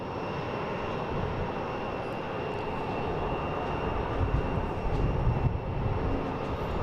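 JetBlue airliner at Boston Logan International Airport, a steady broad engine roar held for several seconds, swelling slightly toward the end, moderately close and alone without talk.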